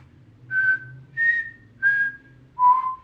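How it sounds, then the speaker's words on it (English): A single person whistles four short, clear notes in a row, each held briefly with small gaps between them, close and loud, with no talk. "And you'll know that you're whistling because it'll feel different from blowing."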